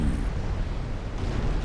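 A destroyer blowing apart in the naval combat game Ultimate Admiral: Dreadnoughts, a deep, sustained rumbling roar of explosion that fills the whole moment at steady loudness, with no talk over it.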